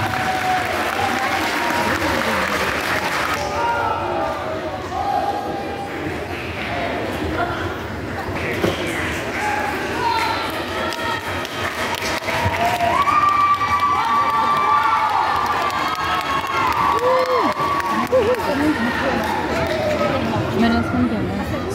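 An audience claps and cheers at a karate belt ceremony, with loud, sustained applause, whoops and children's shouts swelling louder toward the end.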